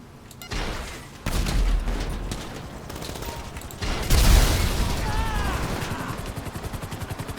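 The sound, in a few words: gunfire from the video game GTA 5 Online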